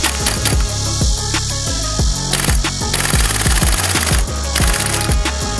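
A CYMA CGS URG-I MK16 airsoft gas blowback rifle running on green gas fires rapid, sharp, loud clacking shots close by, in quick strings with brief gaps, each with a crisp mechanical bolt snap.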